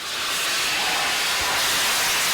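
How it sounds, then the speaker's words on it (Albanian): A restored steam train built in Britain during World War II gives off a loud, continuous hiss of steam that swells slightly and holds steady. "Në Britaninë e Madhe ka nisur të funksionojë një tren me avull I cili është ndërtuar gjatë luftës së dytë botërore"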